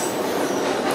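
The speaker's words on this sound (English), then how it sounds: "Hold on, train." A passing train rolls by close at hand with a steady, loud rumble and rail clatter that fills the whole second, with no voices over it.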